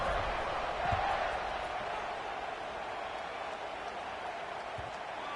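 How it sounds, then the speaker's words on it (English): Stadium crowd buzzing at a college football game, a broad, steady roar of many voices filling the space, with faint thumps and swells throughout. "this crowd is buzzing after that last score"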